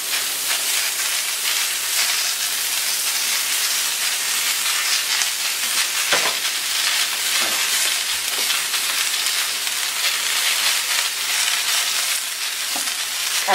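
Zucchini tagliatelle frying on a hot plancha give off a steady, dense sizzle and hiss that holds even throughout, with a few faint clicks of utensils, and no voices.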